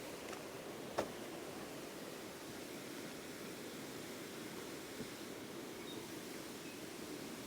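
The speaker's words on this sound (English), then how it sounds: "The river. Oh man, it's loud. It's so loud." A river rushes loudly next to a campsite in heavy rain, a steady broadband roar filling the whole span, with a faint knock near the start and no speech.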